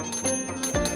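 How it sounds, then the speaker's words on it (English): A bell rings in a Spectrum Business TV advertisement, with clear tonal strikes that sustain over a steady background. "Spectrum Business knows the sound of that bell means that business is good."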